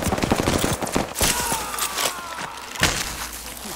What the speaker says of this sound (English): Open fire on that tree.